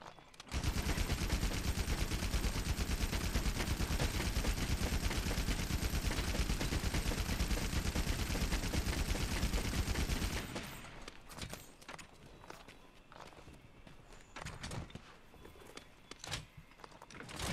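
Rapid-fire bowgun shots from Monster Hunter World come as a dense, loud, continuous volley for about ten seconds, then cut off and leave scattered quieter clicks and thuds.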